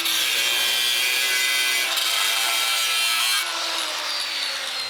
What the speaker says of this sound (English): So use the vise to hold it, score a line quick.